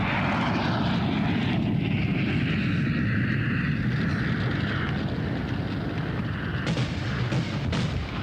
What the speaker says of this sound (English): the giant Hercules lumbers down the runway for takeoff